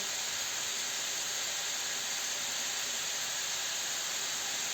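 Cucumbers and onion frying in oil in a pan, a steady close sizzling hiss that stays even and unbroken throughout with no talk over it.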